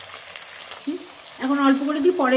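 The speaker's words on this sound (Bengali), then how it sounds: "কুচনো পেঁয়াজগুলো দিয়ে একটু ভাজা ভাজা হলে একটু নুন দেবো" Chopped onions fry in a pan for a coriander-leaf chicken curry with a continuous close sizzle and crackle. Someone speaks briefly over it toward the end.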